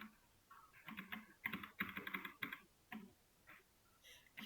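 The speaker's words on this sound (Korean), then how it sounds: "키보드가 조금 이상합니다." Close, clicky bursts of typing on a computer keyboard that is acting up, heard in a Java programming lecture. Irregular fast keystrokes come in clusters with short pauses and no talking.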